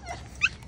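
A dog walked together with her puppies gives a short, high whimpering yip, a single brief whine close by over faint outdoor background.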